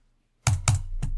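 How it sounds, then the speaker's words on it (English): Three crisp keystrokes on a computer keyboard, two close together and then a third after a short pause, near and clear with nothing else heard. "I'm just typing"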